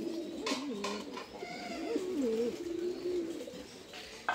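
A young racing pigeon coos in a loft, a close, continuous warbling coo with rising and falling pitch, plus a few soft knocks.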